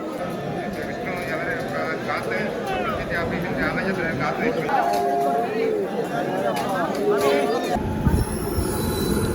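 A train carrying Sabarimala pilgrims rolls in with squealing wheels and clattering rails, growing louder as it nears, while people talk nearby.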